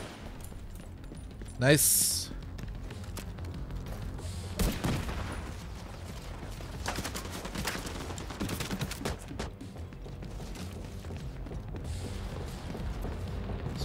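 Gunfire rattles in The Division 2, a sharp loud crack near the start followed by scattered bursts of shots amid combat noise, with someone talking over the action.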